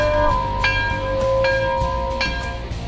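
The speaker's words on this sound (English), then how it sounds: "Somebody ring the bell!" A bright bell tone rings out and sustains, with a few sharper strikes layered over a loud, dense low rumble.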